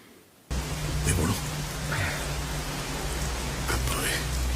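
Heavy rain pours in a Malayalam film scene, a dense steady hiss that starts abruptly after a brief quiet moment and keeps on evenly at close range.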